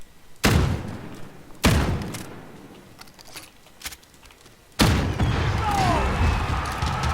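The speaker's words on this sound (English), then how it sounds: "See how far this can shoot." Gunfire in Call of Duty Warzone, Modern Warfare: three sharp, heavy booming shots spaced about a second apart, a faint thud, then a fourth blast that trails into a long rumbling echo with faint whistling debris.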